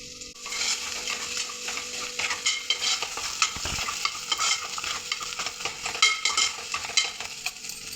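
Tempering spices fry in hot oil in a pan, with a dense, continuous crackling sizzle and occasional utensil clatter, close and fairly loud with no voices.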